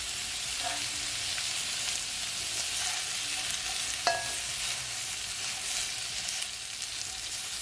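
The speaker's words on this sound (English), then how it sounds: "allow it, guys, to stir fry for at least 20 minutes because you don't want it to be too soft" Chicken and vegetables stir-frying in a pan give off a steady, close sizzle with soft scraping and stirring, plus one sharp clink partway through.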